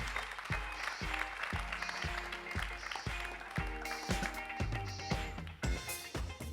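Audience at a conference event applauds guests coming on stage, sustained clapping with sharp rhythmic thumps as footsteps or low beats run underneath.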